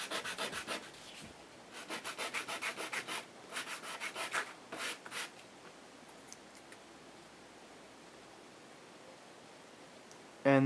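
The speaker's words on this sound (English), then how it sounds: "start with the roughest sandpaper you have until you've shaved off some of the distance, the thickness" Rough sandpaper scrubs a puzzle cube piece for a homemade 3x3x5 puzzle in bursts of quick back-and-forth strokes, soft and close, pausing between sets before falling quiet.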